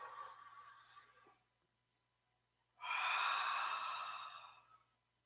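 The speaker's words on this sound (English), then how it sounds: "Deep breathing times 3." Two deep breaths close to the microphone: a long exhale, then a pause of near silence, then a louder, fuller breath that fades out slowly. No talking.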